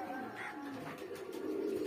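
Breeder pigeons in a loft housing highflyer birds and their young coo softly and repeatedly, a faint, low murmuring chorus with no clear speech.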